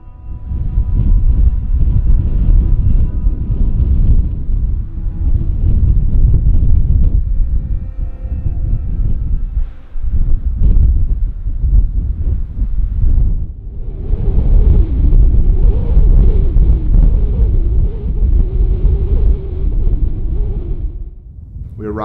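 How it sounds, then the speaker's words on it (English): Strong gusting wind high on Mauna Kea, loud roaring buffets batter the microphone in long surges with brief lulls between them. "Winds were gusting above 30 miles per hour and sustained winds were around 20 miles per hour."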